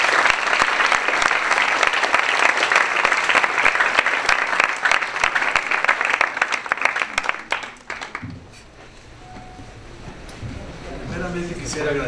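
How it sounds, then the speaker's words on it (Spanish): A university lecture audience gives a full, dense round of applause for an ambassador at a conference on the crisis in Ukraine, Russia and Crimea; it ends abruptly about two-thirds through, leaving quiet room noise. "que me acompañaran con un fuerte aplauso para él"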